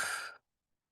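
A single slow, deep exhale during a guided breathing meditation, a soft close breathy rush lasting under half a second before falling to silence.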